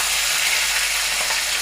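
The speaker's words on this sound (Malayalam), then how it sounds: "ഗ്രാമ്പും പട്ടയും 2 കഷ്ണയുടെ ഇലയും എന്നിട്ട് വെളുത്തുള്ളിയും ഇഞ്ചിയും പച്ചമുളകും കൂടെ അതൊന്നിട്ട് കൊടുക്കാം" Cloves, cinnamon, bay leaf, garlic, ginger and green chili frying in hot oil, a loud, steady, close sizzle with no breaks.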